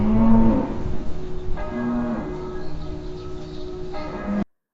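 Cattle moo repeatedly, several low drawn-out calls near and in the open, with a soft tonal ringing in the background.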